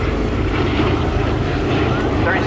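Aircraft engine drone at the Shoreham Airshow, a steady broadband roar that holds loud and even throughout with some wind buffeting on the microphone.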